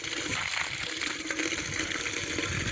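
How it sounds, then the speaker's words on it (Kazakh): Muddy groundwater pumped into a fish pond, pouring out as a continuous gushing, splashing flow. It is close and fairly loud, steady throughout the short stretch, with no talking. "Лай су ағып жатыр кішкене."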